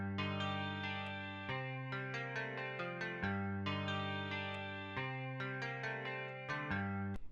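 A dry MIDI guitar with no effects plays a sustained chordal pattern, clean plucked notes ringing over steady low bass tones at moderate volume, with no voices.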